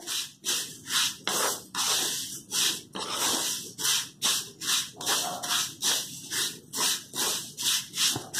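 Vermicelli roasting in a pan for kheer, stirred with a spoon in a fast, even rhythm of rough scraping strokes, close and clear with no talking.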